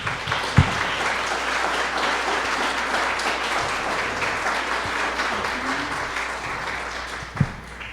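Lecture audience giving strong applause for two speakers at a keynote conference, a dense, even roar of many clapping hands throughout, with a couple of sharp thumps near the start and end.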